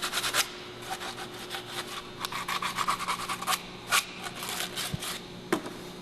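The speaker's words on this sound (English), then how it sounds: "just to clean up the edges and take the burr out" A tool rasps back and forth against the cut edge of a metal pipe while it is deburred for a radiator hose, giving close, steady scraping strokes in an uneven rhythm, with no talking.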